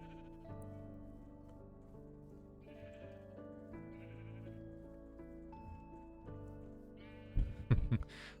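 Minecraft sheep bleat over a gentle melodic music background, ending in a short burst of louder, harsher noise.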